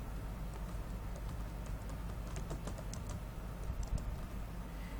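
A search typed on a computer keyboard, soft clicking keystrokes in short irregular runs, fairly close and quiet over a steady room hum, with no talk.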